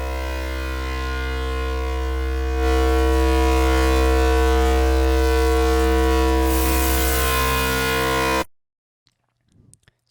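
A Xfer Serum foghorn bass synth with distortion, a sub layer and added white noise holds a loud, sustained droning tone that swells midway, gains a noisy hiss, then cuts off abruptly into near silence with a few faint clicks.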